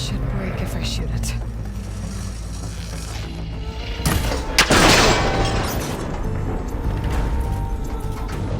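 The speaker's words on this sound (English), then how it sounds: "It should break if I shoot it." In Horizon Forbidden West, a shot breaks a cable connector on an ancient, rickety tower, giving a sharp, loud crack and burst midway over a constant low mechanical rumble of the game scene.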